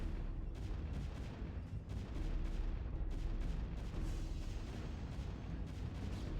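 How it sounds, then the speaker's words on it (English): Far-off gunfire crackles in a competitive match of the Company of Heroes game, irregular shots and muffled booms rolling faintly beneath a steady low battlefield rumble, with no nearby voices. "Some shooting going on somewhere."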